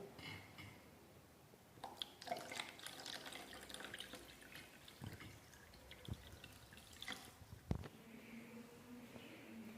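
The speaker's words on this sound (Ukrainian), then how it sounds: "Ми наповнюємо цю кульку водою." A rubber balloon is filled with water from a tap, with a steady trickling and dripping flow of liquid running through the stretch, a louder splash or drip near the end, close and fairly quiet.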